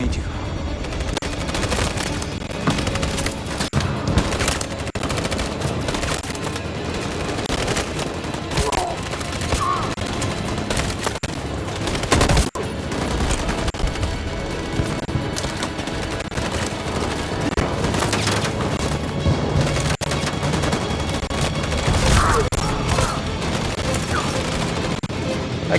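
Gunfire in the video game Detroit: Become Human, a dense continuous barrage of shots and impacts mixed with game effects, loud and sustained throughout.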